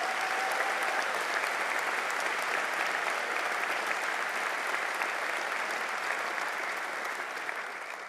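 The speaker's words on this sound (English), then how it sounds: "a big round of applause" A large audience in a hall at a university graduation ceremony gives sustained applause, a dense, even wash of many hands clapping with some cheering blended in, gradually easing at the very end.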